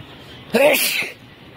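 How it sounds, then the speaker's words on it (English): A single sharp human sneeze outdoors in windy weather among peonies at the National Flower Park of China in Luoyang, close and loud, with a brief inhaled build-up and an explosive burst lasting about half a second. "Got a sneeze coming."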